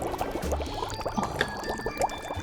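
Soup simmering in a pot on a home stove, with a steady bubbling, boiling wash and a few small clinks close by, heard alone without talk.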